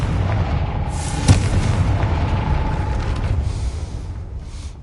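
Confringo fire spell cast in Hogwarts Legacy, a single sharp blast near the start followed by a rumbling, crackling burst that lingers over steady low game ambience.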